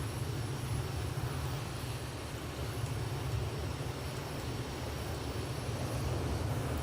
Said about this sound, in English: Oh, it's a Phantom I can hear. Man, it's like thunder.